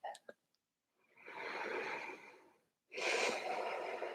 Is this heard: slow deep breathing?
yes